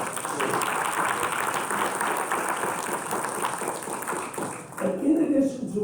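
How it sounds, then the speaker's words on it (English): Attendees at a quarterly business meeting applaud in a sustained spatter of many hands, fairly soft and roomy, fading near the end as other indistinct sounds take over. "let's give him applause for his service"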